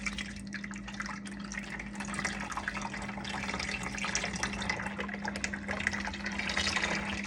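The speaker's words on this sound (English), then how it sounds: "So I will try to pour this in here without making a mess." Liquid charcoal tea tree soap batter pours steadily into a bucket, a continuous wet gushing and splashing that grows slightly louder near the end, with a low hum beneath.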